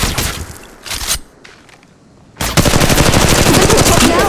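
Gunfire in the mobile battle-royale game Apex Legends Mobile: a loud automatic burst, a brief lull with faint clicks, then a sustained rapid stream of shots filling the rest, close and intense.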